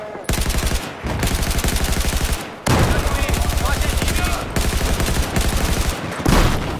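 Automatic gunfire in the video game Battlefield 4, aimed at enemies' feet: loud, sustained rapid bursts in several long strings separated by brief gaps.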